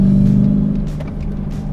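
Dodge Challenger R/T Scatpack Widebody with a manual gearbox accelerating up a narrow country canyon road, heard from inside the cabin as a loud, steady low engine drone, with no talking.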